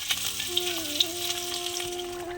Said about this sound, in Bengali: দেখছিলে তো মাছ ভাজা করছিলাম